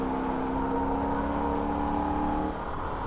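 A Holden VF Ute at racing speed on the Nürburgring gives a loud, steady engine drone with sustained tonal harmonics that dip slightly near the end. No one speaks over it.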